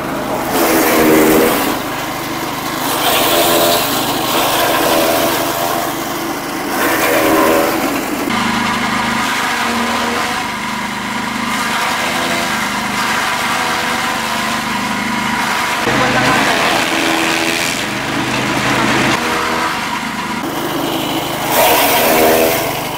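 Briggs & Stratton engine powering a chaff cutter shredder runs loud and close for over twenty seconds, with a rough, steady drone that rises and dips as the load changes.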